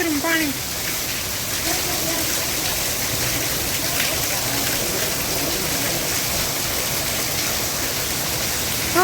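Unseasonal rain falls steadily on a farm in Gujarat, a dense, even wash of close rain noise that holds at one level for the whole stretch without pauses.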